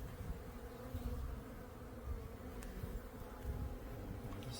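Honey bees at a backyard apiary hive drone in a steady, low buzzing swarm, faint and continuous with slight swells as individual bees pass closer.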